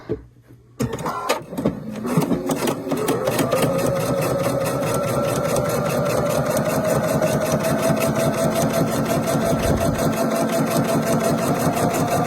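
Pfaff sewing machine stitching a rail fence quilt block, starting after a few handling clunks and then running in a steady, loud, rapid mechanical hum close by with no talking.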